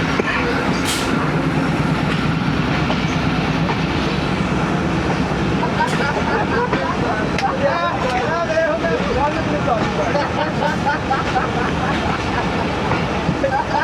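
The Tezgam 7 Up train stands at Gujranwala railway station, a steady loud rumble of engine and platform noise with scattered clanks and rail sounds; a voice talks over it throughout.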